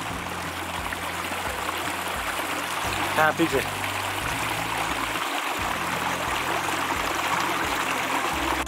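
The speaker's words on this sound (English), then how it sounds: "Beautiful crystal clear stream." A crystal clear woodland stream flows steadily near a campsite, a continuous close rushing and trickling of water with a brief splash partway through, while someone talks briefly over it.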